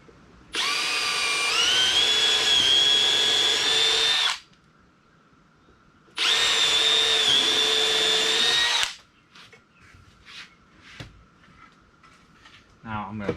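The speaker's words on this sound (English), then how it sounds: "first we'll countersink our holes" A power drill countersinks holes in a wooden planter board in two loud, sustained whirring bursts separated by a pause, followed by softer handling clatter.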